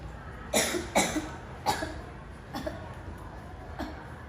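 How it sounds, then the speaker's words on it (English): Five separate coughs from one person, each short and fairly close, spaced unevenly across a few seconds in a quiet room with no talk. "I have got a cough."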